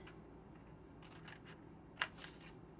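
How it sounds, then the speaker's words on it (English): Scissors snipping paper while making a handmade gift box: a few soft, close cuts over a quiet room hiss, with one sharper snip standing out near the end. "I'm just going to cut this like this and cut this like this"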